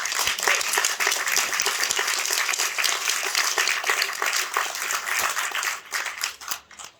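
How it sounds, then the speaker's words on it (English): An audience at a talk claps warmly for the speaker, a close, dense patter of many hands that holds steady and then thins into scattered last claps. "Let's give him a round of applause."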